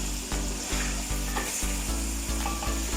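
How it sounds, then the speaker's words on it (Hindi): Salted chicken pieces fry in a pot with a constant close sizzle, while a spoon stirs in a regular rhythm of scraping strokes roughly every half second. "इसको 5 से 6 मिनट पकाना है, अच्छी तरह वाइट हो जाए चिकन सारा हमारा"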